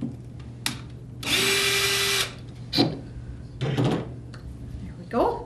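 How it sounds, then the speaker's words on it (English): A power drill bores a hole through a lid in one loud, steady whine of about a second, framed by short clicks and handling knocks before and after. "we're going to drill a hole in the lid"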